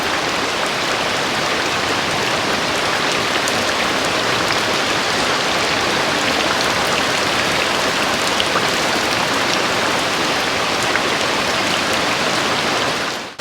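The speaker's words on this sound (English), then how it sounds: "It's just another rainy day in Louisiana." Steady rain pours down on a rainy day in Louisiana, a dense, even hiss of drops hitting surfaces that continues unbroken and fairly loud, with no voices.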